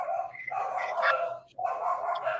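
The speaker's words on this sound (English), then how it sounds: "You hear that dog? That dog is out here screaming" Dog barking and whining outdoors, a continuous strained, howling vocalization that breaks briefly and resumes, moderately close and steady.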